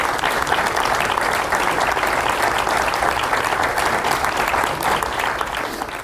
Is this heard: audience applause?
yes